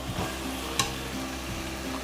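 Masala is stirred in hot oil for a double beans vegetable biryani, with a steady close sizzle under soft scraping strokes and one sharp utensil knock.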